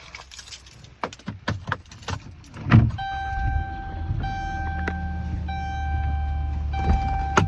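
A car is boarded in the rain after snowfall: footsteps and keys jangle, a door thumps shut, then the engine idles with a steady low hum and faint chimes.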